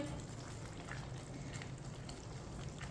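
Potato pieces for aloo palak fry in a pan while a spoon keeps them moving, producing a faint, steady sizzle with light occasional scrapes.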